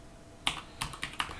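Computer keyboard being typed on as a username is entered, four sharp clicking keystrokes spaced a fraction of a second apart, close and isolated over a faint background hiss.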